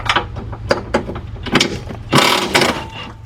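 A ratchet loosens an oil pan bolt on a 2005 Cadillac CTS with a 3.6 engine, giving a series of close, sharp clicking strokes in irregular bursts, with a longer rattling run in the second half.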